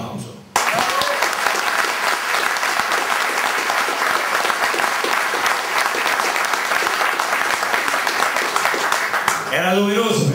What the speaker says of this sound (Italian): penso che meritano almeno un applauso